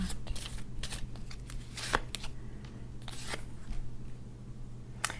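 Tarot cards shuffled and drawn from the deck during a reading, a steady run of soft papery riffles and flicks with a few sharper snaps, close and fairly quiet, no talking.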